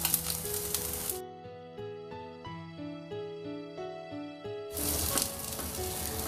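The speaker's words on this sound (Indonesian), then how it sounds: "Tumis sampai kurang lebih bau harum, masukkan ini ya, bawang putih, bawang merah" Garlic and shallots sauté in a hot pan with a loud, dense sizzle at the start and end. A stretch of steady, sustained tones interrupts the crackle in the middle, and no one speaks.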